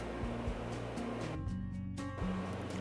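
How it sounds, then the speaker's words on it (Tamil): Mustard seeds tempering in hot oil in a kadai give a steady, close hiss of sizzling with a low hum beneath it. The sound runs without a break and no one speaks. "இப்போது கடாயில் எண்ணெய் ஊற்றி ஹீட் பண்ணியிருக்கேன். கடுகு தாளிச்சுக்கிறேன்."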